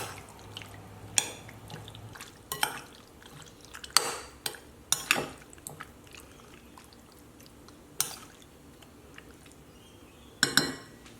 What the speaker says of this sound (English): Now, mix all the ingredients well.